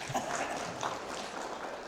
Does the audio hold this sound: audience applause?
yes